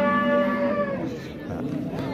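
A cow at a cattle market gives a long, close moo that fades, followed by background chatter of the market.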